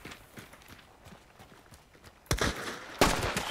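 Two sharp, loud gunshots in the video game Hunt: Showdown, the first about two-thirds through and the second soon after, standing out over quieter clattering footsteps and movement.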